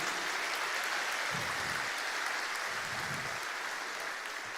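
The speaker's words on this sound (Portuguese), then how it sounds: "Se é para Jesus, você pode aplaudir." A church congregation claps steadily through a sermon, a continuous wash of many hands at moderate level, with low rumbling thumps underneath and no talk.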